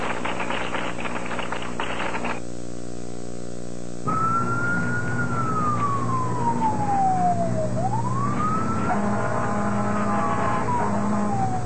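An emergency vehicle siren, recorded in Jacksonville in 1998, wails loudly and close. After a steady horn-like blast it breaks off, then returns as a rising and falling sweep with a second tone layered over the top.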